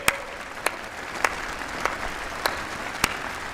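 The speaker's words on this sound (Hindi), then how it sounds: "आइए कुछ पल तालियां बजा करके उनका सम्मान करें" Crowd applause at the Red Fort Independence Day ceremony honoring India's athletes, a broad continuous wash of clapping from a large outdoor gathering with a few sharper claps standing out at regular intervals.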